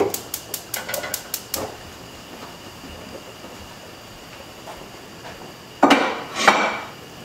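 Dishes, pots and pans clatter in a home kitchen during sour cherry rice preparation, with a quick run of sharp clinks at the start, then a quiet stretch and two louder clanks near the end.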